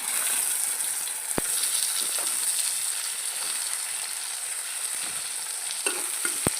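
Thinly sliced potatoes fry in a pan with a steady, close sizzle, broken by a few sharp clicks of a spatula against the pan.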